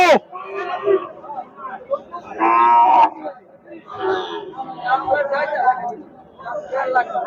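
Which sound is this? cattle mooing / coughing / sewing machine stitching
cattle mooing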